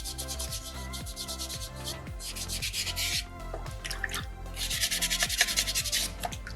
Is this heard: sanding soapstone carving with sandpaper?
yes